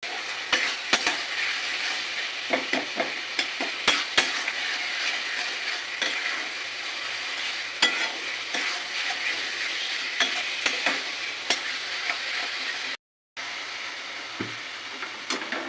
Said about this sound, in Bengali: ভালোভাবে কষিয়ে নেব টমেটোগুলো